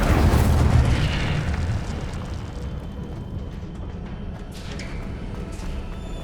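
A fire spell cast in the Hogwarts Legacy video game, with a loud whooshing, rumbling blast at the start that settles into a steady crackling roar of flames.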